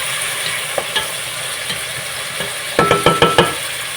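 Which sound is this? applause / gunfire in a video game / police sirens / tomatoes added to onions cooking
tomatoes added to onions cooking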